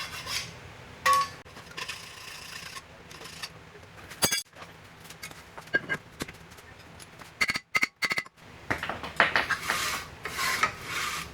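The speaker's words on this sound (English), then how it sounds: "This pad I boogered up a little bit with the chisel, so I'm gonna hit it with a file" A hand file rasps across the edge of a damaged rear brake pad from a Subaru Crosstrek, giving irregular scraping strokes broken by pauses and sharp metallic knocks, close up with no voices.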